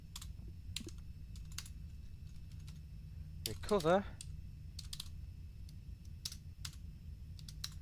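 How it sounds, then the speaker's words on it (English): Computer keyboard typing in the game Duskers, sparse soft key clicks scattered through the clip over a low hum, with a brief burst of quicker keystrokes in the middle; a voice speaks briefly. "I'm typing."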